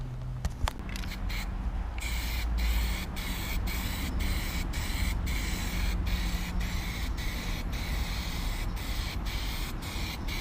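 A spray can tints a car light lens in a run of short, evenly spaced hissing bursts, close and fairly loud, after a few sharp knocks at the start.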